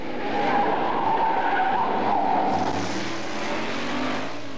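Drag racing car tires skid and squeal in a continuous, loud screech lasting several seconds, with engine rumble rising underneath toward the end.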